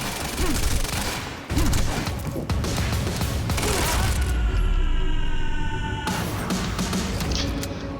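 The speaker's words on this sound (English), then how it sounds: "Why the hell is Monarch firing at us?" Monarch soldiers open fire in the game Quantum Break, a heavy, continuous rattle of automatic gunfire close by, with a sharp burst near the start and a brief lull before the shooting resumes.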